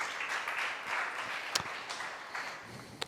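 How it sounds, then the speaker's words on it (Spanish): A church congregation applauds during a sermon, a soft, fairly distant wash of clapping with a few sharper claps standing out, the sound steady but low throughout. "Dale un aplauso si lo puedes creer"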